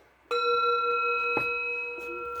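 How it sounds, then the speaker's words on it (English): A single bell is struck at kitten feeding time and rings out clearly, its bright tone sustaining and slowly fading, with a couple of light knocks underneath. "Let's see if they respond to the bell."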